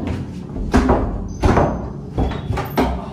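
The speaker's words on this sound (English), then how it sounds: "No, I'm kicking the door open." Repeated heavy thuds of a door being kicked, about four forceful impacts spaced roughly half a second to a second apart, close and loud in a house.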